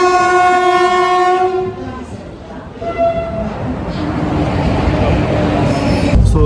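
A train pulls into a station and sounds a loud, sustained horn that fades into the rumble and clatter of the approaching wagons, ending with a close burst of noise.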